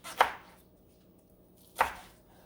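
Two crisp knife strokes cutting through rolled collard greens on a cutting board, spaced about a second and a half apart, close and clear against a quiet background.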